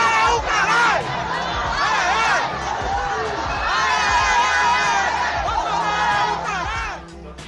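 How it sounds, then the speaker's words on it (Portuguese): Street carnival crowd in Olinda, Brazil, loudly booing and jeering a giant puppet of the president, a dense sustained roar of shouting voices with rising and falling yells. "O boneco do presidente foi vaiado."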